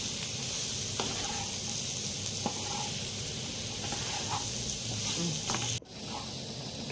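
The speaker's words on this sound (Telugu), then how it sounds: "ఇప్పుడు ఈ ఆలుని వచ్చి మనం ఉర్లగడ్డను వచ్చి మీడియం ఫ్లేమ్లో పెట్టి ఫ్రై చేసుకుందాం ఫ్రెండ్స్" Potatoes frying over a medium flame give a steady, even sizzle throughout, with faint scattered clicks and one brief dip near the end.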